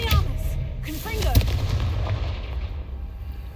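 Confringo spell blast in the video game Hogwarts Legacy: a booming, gunfire-like burst strikes near the start, with a second sharp impact around the middle, then a rumbling tail fading under game ambience.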